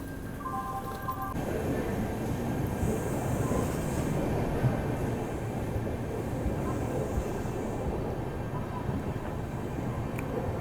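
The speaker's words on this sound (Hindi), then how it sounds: "अभी अपनी ट्रेन निकल रही है लुधियाना जंक्शन से" The Shri Shakti AC Express pulls out of Ludhiana Junction in dense fog, a steady low rumble of rolling wheels and carriages filling the whole stretch, heard from on board, with a brief tone near the start.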